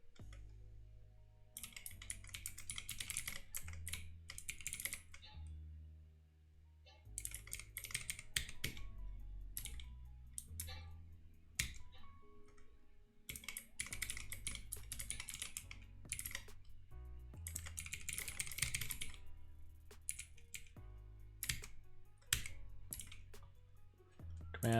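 Rapid typing on a computer keyboard, dense bursts of crisp key clicks with brief pauses between flurries, close and clear with no speech.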